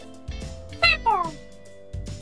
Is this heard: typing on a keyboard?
no